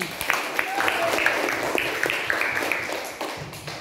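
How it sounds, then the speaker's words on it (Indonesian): A scattered round of hand clapping from a class or audience during a lesson on drawing flora, fauna and still life, with sharp individual claps over a moderate bed of clapping and a voice talking alongside. "Tepuk tangan dong"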